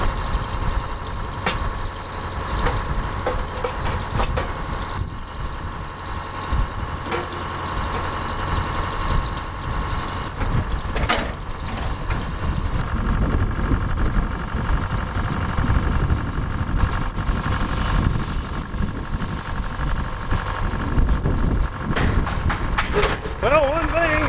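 A 57-year-old tractor's engine idles steadily after warming up in cold weather outdoors, a low, rough, knocking rumble that runs continuously, with people talking briefly over it.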